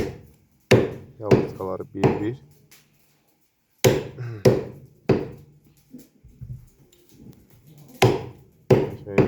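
Heavy cleaver blows chop through lamb ribs on a wooden board, several sharp thuds in uneven bursts with pauses, close and loud, while someone talks between the strikes.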